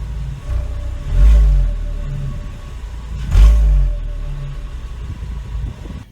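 Deep, steady idle from a 2010 Volkswagen Jetta SportWagen 2.5 engine, heard up close, with two brief throttle blips swelling the low rumble.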